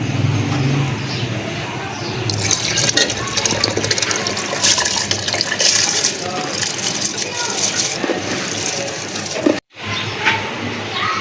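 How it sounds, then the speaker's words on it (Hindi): Soaked rice for chana pulao tumbles into water in a cooking pot, giving a loud, continuous wet rushing and rattling splash up close for about ten seconds, broken by one brief gap near the end. "अब मैं सारे चावल इसमें ऐड कर रही हूँ।"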